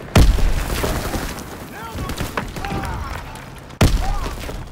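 Grenade blasts in the World War II shooter Call of Duty: WWII, two heavy booming explosions a few seconds apart, the first near the start and the second near the end, with battlefield rumble and voices shouting callouts in between.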